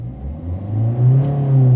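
A Volvo S40 with a 1.6 diesel engine, troubled by limp mode and low fuel pressure, revs hard at full throttle, its loud droning note climbing steadily in pitch over a couple of seconds, close up.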